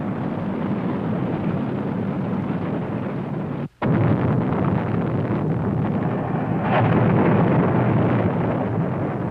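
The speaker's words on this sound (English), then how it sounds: "As we develop our missile force, the Thor, our first intermediate range missile." A Thor intermediate range missile launches with a loud, continuous roaring rumble that fills the whole stretch. The roar cuts out briefly once, then swells slightly as it continues.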